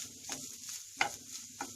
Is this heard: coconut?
yes